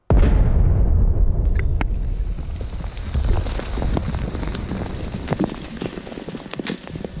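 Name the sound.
controlled explosion destroying unexploded bomb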